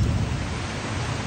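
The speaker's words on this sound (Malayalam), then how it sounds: "മഴ പെയ്യുന്നു." Steady heavy rain falls outdoors at night, with a low rumble of thunder rolling underneath as a continuous wash of sound, and no voices are heard.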